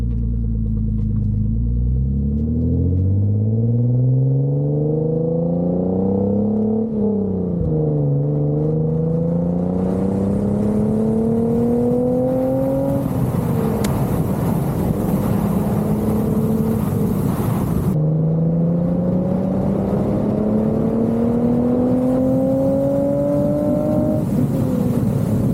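Hyundai Genesis Coupe with an aftermarket exhaust, engine revving and pulling through rising gears with a deep, loud rumbling drone that climbs in pitch, drops at each shift and climbs again, continuous throughout.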